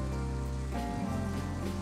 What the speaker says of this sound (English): It's raining off and on, of course, Mother Nature sending me off